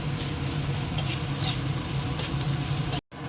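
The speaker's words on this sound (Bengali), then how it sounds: "পেঁয়াজটা চলে যাবে একটু ভেজে নিই" Chopped onion, salted, frying in a pan with a steady, dense sizzle and faint stirring scrapes; the sound holds close and loud, then drops out briefly near the end before resuming.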